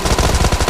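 Rapid automatic gunfire in the mobile battle-royale game PUBG Mobile, a loud, dense burst of evenly spaced shots with no talking.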